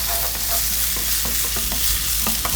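Garlic and onion stir-fried in a pan for a seafood tomato spaghetti give a loud, steady sizzle, with repeated scraping and stirring strokes and no talk.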